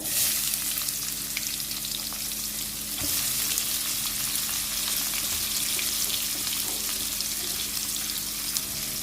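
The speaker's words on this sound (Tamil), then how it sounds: "நான் வந்து இப்போ ஆனியன் ஆட் பண்ணிக்கிறேன்." Onions sizzle and crackle steadily in hot oil with mustard seeds and asafoetida for palak sambar, a dense, continuous frying hiss with occasional stirring, close and without talk.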